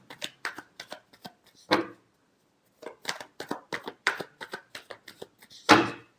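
Tarot cards are shuffled by hand in quick riffling bursts of papery flicks and snaps. The bursts are separated by short pauses, close up and crisp, with no talking.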